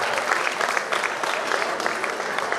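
Dense applause from an audience for a university academic choir at a student welcome event, steady and continuous throughout, filling the room without any speech over it.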